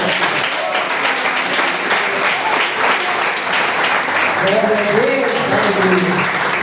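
Congregation in a church applauding steadily together, a sustained wash of clapping hands at close range with a voice speaking over it.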